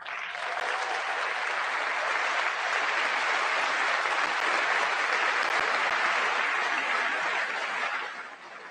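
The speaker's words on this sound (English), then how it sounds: "We're just going to be standing up and clapping for half of it?" Sustained applause fills the chamber at the State of the Union, a dense even roar of many hands clapping for several seconds before tapering slightly at the end.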